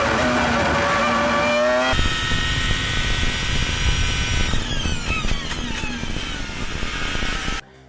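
A Formula 1 car at full throttle: a screaming engine climbs steadily through the gears, then drops into a falling whine as it brakes hard, loud and close throughout with no talk.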